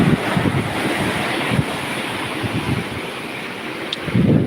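Ocean waves rolling and crashing on the shore, a continuous loud wash of surf with wind buffeting the microphone and a fresh surge near the end, no voices.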